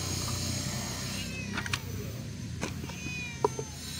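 A two-month-old kitten meows a few times, short and fairly close, with a couple of brief higher cries scattered over a quiet room background.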